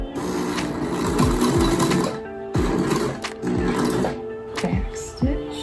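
Several short bursts of a sewing machine stitching a t-shirt seam with back stitching, close whirring runs broken by brief stops and small clunks.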